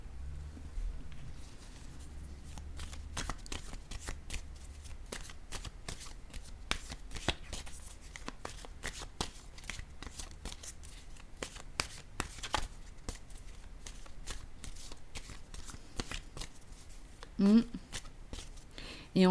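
Oracle cards shuffled for a card reading, a long run of quick, crisp riffling flicks close up and fairly quiet, with a soft thump near the end.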